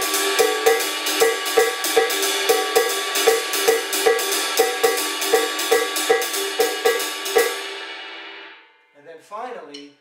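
A drum kit plays a cascara pattern with clave, steady bright metallic clicks and accented strikes on a shell or cowbell-like surface repeating evenly, ringing out, then a voice speaks briefly at the end.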